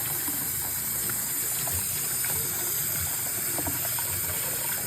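A kitchen tap runs steadily while boiled eggs are peeled beneath the stream, a constant close hiss of splashing water with faint soft knocks and handling noises mixed in.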